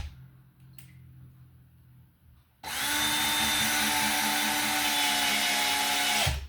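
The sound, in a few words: driving screws into a wall stud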